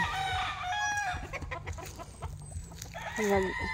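A rooster on a farm clucks and crows, with a drawn-out crow near the start and another near the end, clucking between them over steady outdoor background noise and a faint voice.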